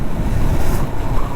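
Sea waves at Snehatheeram beach rolling in as a steady, loud wash of surf mixed with wind buffeting the microphone, continuous with no talking.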